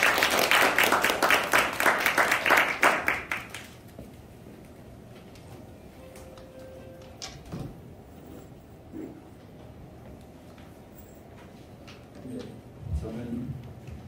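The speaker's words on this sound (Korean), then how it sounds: "박수로 환영합니다." An audience claps in a dense burst of applause for several seconds, then it fades into a quiet room with faint talking.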